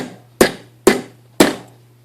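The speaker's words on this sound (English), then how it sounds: "I just use the urethane hammer and just make sure it's flat by just tapping on it." A urethane hammer taps a flat piece of silver three times at an even rhythm, each strike a close, sharp, dull knock with a short decay in a quiet workshop.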